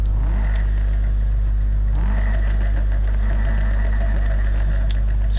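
A Subaru engine in the Need for Speed video game drones loud and close, with the revs climbing twice and a short hissing burst from the turbo blow-off near the end.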